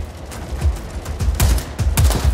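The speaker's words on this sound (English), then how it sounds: "Rico, you think the explosions are a little too much?" Explosions in the video game Just Cause 4, a quick string of about five or six deep, thudding blasts in close succession, loud and near, with no voices.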